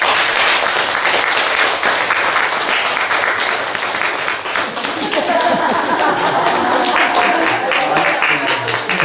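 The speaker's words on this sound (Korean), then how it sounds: "박수 한번 해주세요." Applause from a church congregation during a Sunday morning service at a church in Daegu, sustained dense clapping filling the room throughout, with a slight dip midway.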